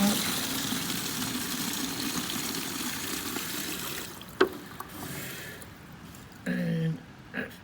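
Tap water gushes steadily into a 3 litre milk bottle in a caravan, then cuts off around midway, leaving faint trickles and a few brief knocks and clunks.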